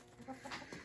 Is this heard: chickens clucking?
yes